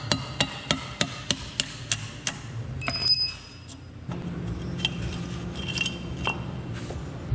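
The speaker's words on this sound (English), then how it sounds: "I might have to grab a punch or a pry bar like this and strike it just to break this V-band" A punch or pry bar strikes a steel V-band clamp on the turbo of a 2014 Ram 6.7 Cummins diesel, about eight sharp metallic hits in a steady rhythm, then lighter clinks and tool handling nearby.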